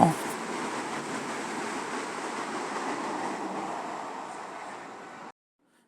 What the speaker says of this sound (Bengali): পূর্ব রেলের বাদশাহ হাওড়া গয়া বন্দে ভারত এক্সপ্রেস এখন কামারকুণ্ডু পার করছে